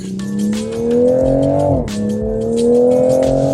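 A 2026 Toyota Supra's engine pulls hard under acceleration, a loud rising drone that climbs steadily, dips briefly at a gear change, then builds again, with no voices over it.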